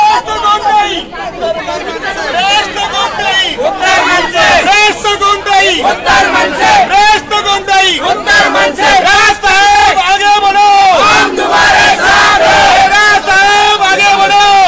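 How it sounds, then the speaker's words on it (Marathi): A large, loud crowd of BEST employees gathered outside Krishnakunj, with many voices chattering and shouting together in a continuous, dense babble close by. "तुम्ही जी गर्दी बघताय आता"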